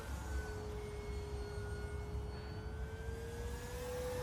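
A 1700mm P-51 RC model plane flies overhead in a back loop, its electric motor giving a steady, moderately distant whine that slowly shifts in pitch over wind and low rumble.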